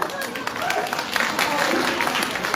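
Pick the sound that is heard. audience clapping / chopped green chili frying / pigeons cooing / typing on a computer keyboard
audience clapping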